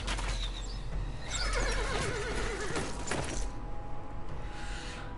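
Horse neighing with hooves clopping in the game Immortal Realms Vampire Wars, a long wavering whinny over a steady background of battle noise and clatter, fairly close, with no voices.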